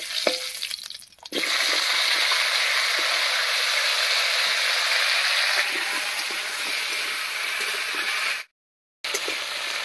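Chopped potatoes hit hot oil with fried tempering spices and a loud, continuous hiss of frying follows, briefly cut off near the end.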